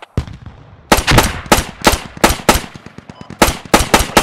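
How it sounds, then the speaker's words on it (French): Machine gun fire through a wall in the video game Squad: loud, close bursts of sharp shots in an uneven, rhythmic string, each report ringing briefly, with short gaps between bursts and almost no talk. "Tire à travers le mur, tu l'auras peut-être."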